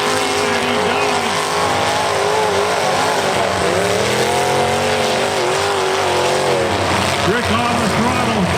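Pro stock demolition derby cars roar and rev hard in a loud, continuous engine drone with rising and falling pitch, tire squeals and crunching impacts, while an announcer talks over the arena noise.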